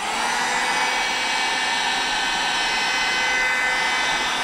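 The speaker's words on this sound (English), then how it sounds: "Got a heat gun." A heat gun blows hot air steadily onto a rifle barrel, a constant loud broadband whoosh with no break, close to the listener.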